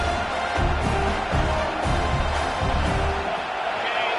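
Crowd noise fills a stadium in an American football video game during a 4th-down play, a dense continuous roar with rhythmic thumping swells, while a commentator talks over it.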